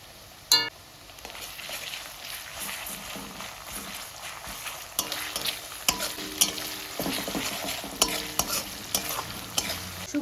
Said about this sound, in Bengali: পেঁয়াজটা হালকা ভাজা হয়ে গেছে এখন দেব আদা রসুন বাটা